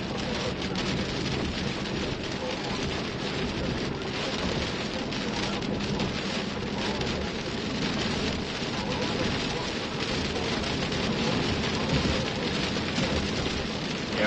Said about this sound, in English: we gotta get moving through this rain here